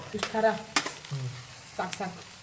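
Chillies drop into a pan of sizzling okra fry, with a crackling hiss and stirring scrapes coming close, while a voice speaks intermittently over the cooking.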